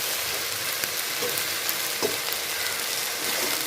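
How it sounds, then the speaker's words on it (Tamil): Capsicum rice stirred in a pan over a low flame makes a steady, even sizzle throughout, with a few soft scrapes of the spoon against the pan. "இந்த ரைஸோட எல்லாம் ஒன்று சேர மாதிரி தீயை கம்மியாக வச்சு நல்லா கிண்டி விடுங்க"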